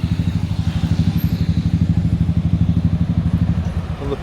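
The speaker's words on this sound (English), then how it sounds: "As you can see from the amount of motorbikes parked up and traffic on the road," Motorbikes and traffic on a busy beachfront road, with a near engine chugging in a fast, even pulse that stays loud and steady throughout.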